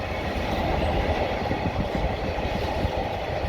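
A British Class 66 diesel locomotive in DB stickers hauls a container freight train from East Midlands Gateway to Felixstowe North in Suffolk, a steady, loud rumble and rolling roar close by, with no talking.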